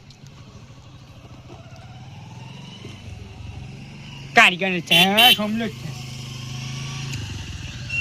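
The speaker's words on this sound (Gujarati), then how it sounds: "બાઇક નો અવાજ આવ્યો" A motorcycle passes close by, a brief loud engine whine rising and falling over about a second, while people talk before, during and after it.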